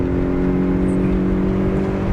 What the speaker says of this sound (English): the car loves to rev, this MZR engine is so happy at high RPMs